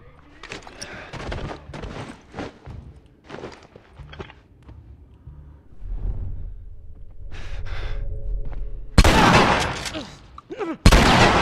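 Gunfire in The Last of Us Part II, with a few sharp shots and a loud burst near the end, amid footsteps, scuffling and rumbling game noise; a voice is heard briefly.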